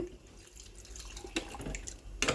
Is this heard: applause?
no